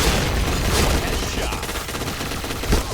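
An MP9 submachine gun in the online shooter Point Blank fires in rapid, continuous close-range bursts, a dense crackling rattle of shots that fills the whole moment.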